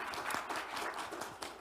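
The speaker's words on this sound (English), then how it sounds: "please give a big round of applause to our speakers" An audience applauds speakers at the close of a climate resilience conference session, a quiet, distant patter of many hands clapping steadily.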